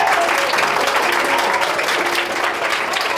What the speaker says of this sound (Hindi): आप लोग जोरदार ताली बजाएंगे।